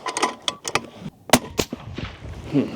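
A Western rifle fires factory ammunition outdoors. One loud, sharp report stands out midway through, set among clicks and mechanical clatter from handling the gun.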